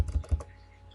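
Quick typing on a computer keyboard during spreadsheet work: a short close burst of four or five clicks in under half a second, then quiet room tone.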